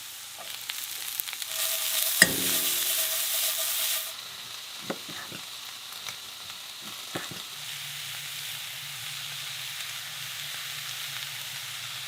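Potatoes, peppers and onion fry in a pan with a steady sizzle, a loud burst of hiss when the food goes in, then scattered stirring clatters over a quieter ongoing fry.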